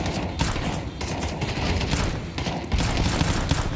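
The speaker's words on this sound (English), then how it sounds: "Landing the headshot on Hunter" Rapid, dense gunfire fills a Counter-Strike match at a professional IEM Cologne Major tournament, a loud, nearly continuous volley of shots with brief dips, heard without commentary over it.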